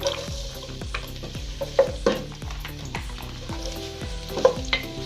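Steady sizzling of onions frying in hot oil, with a utensil repeatedly scraping and stirring the pan in a loose rhythm.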